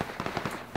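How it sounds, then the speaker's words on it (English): Sniper gunshots in PUBG ring out in a rapid string of sharp cracks, about six evenly spaced shots in under a second, loud and close with a hard snap to each. "I'm getting sniped from the buildings"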